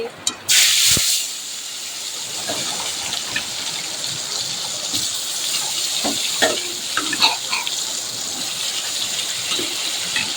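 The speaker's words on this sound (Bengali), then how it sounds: "বেগুন ভাজা" Eggplant slices rubbed with salt and turmeric sizzle in hot oil in a home kitchen, giving a loud, continuous frying hiss. Occasional stirring clatter and faint background voices sit under it.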